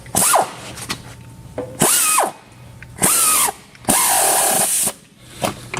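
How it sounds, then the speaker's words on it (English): Ratchet driving a heavy-duty manual bead breaker on an agricultural tyre, several loud whirring bursts of about half a second to a second each, separated by short pauses, close and alone. "you can just hand ratchet that in"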